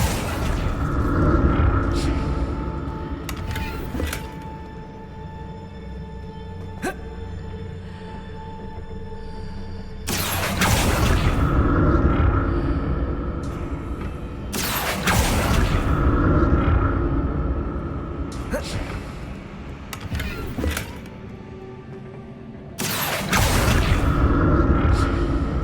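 Spellcasting in Hogwarts Legacy: the Accio spell alongside repeated deep booms and whooshing rumbles in a heavy cycle of magical impacts, loud and recurring every few seconds with quieter gaps between.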